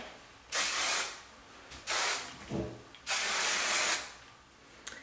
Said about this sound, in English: finish with a mist of hairspray